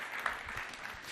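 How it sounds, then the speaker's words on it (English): A brief round of applause for an audience member at a tech talk on privacy-preserving AI, a steady, fairly soft wash of clapping with no break. "Can I get a round of applause for Sandy for working on diabetes?"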